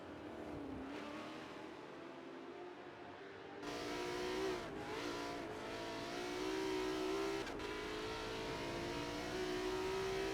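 A GT race car engine in a racing video game, droning and revving steadily in onboard view with rising and falling pitch through gear changes, loud and continuous, with no talking.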